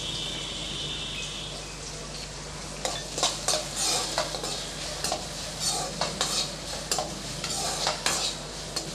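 Carrots stir-fried in a pan while cooking corn rava upma: a steady soft sizzle runs throughout, overlaid with repeated scraping and clinking of a spatula against the pan, close and moderately loud.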